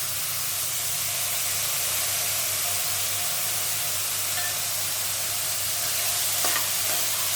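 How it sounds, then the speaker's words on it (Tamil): Tomatoes sauté in hot oil in a pan for a ridge gourd dish, giving a steady, close sizzle and hiss that runs throughout with faint stirring and no talk. "அதையும் போட்டு வதக்கிடலாங்க"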